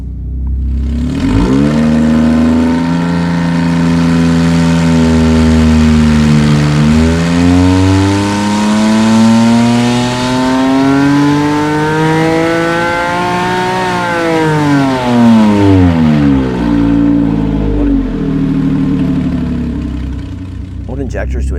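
A Porsche 997.1 with a naturally aspirated 4.1L engine revs hard on a dyno, its pitch climbing, dipping, then sweeping up high before falling back, loud and continuous throughout.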